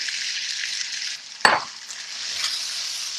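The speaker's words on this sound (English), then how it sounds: "You see, it doesn't really stick, so you have to stir fry quickly." Meat stir-frying in oil in a hot wok, a bright continuous sizzle broken by one sharp metallic clink of a spatula against the pan, then the sizzle resumes, with no talking.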